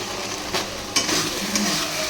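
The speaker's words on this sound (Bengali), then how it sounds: "তো মশলাটা কষা হয়ে গেছে, মাংসটা দিয়ে দিয়েছি। ভালো করে মাংসের সাথে মশলাটা কষিয়ে নেবো।" Chicken pieces fry in masala spices while being stirred in a pan, giving a steady close sizzle with a few sharper scraping knocks.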